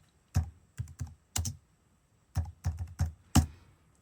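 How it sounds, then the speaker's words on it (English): Bursts of computer keyboard typing as a search term is entered into a sample library's search bar, several quick clusters of close, crisp keystrokes separated by short pauses, with no voice over them. "So I'm just gonna type in shaker loop,"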